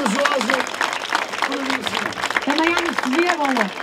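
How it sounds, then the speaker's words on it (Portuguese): Crowd applause for a brave volunteer at a medieval fair, modest clapping beneath overlapping voices and shouts that continue throughout. "um aplauso para o Fábio, foi muito corajoso"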